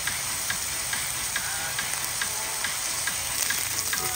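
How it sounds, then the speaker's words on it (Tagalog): Minced beef sautéing in a hot pan with soy sauce, oyster sauce, black pepper and seasoning gives a steady, close, continuous sizzle with fine crackling throughout and no voices. "Ayan, igisa-gisa lang po natin."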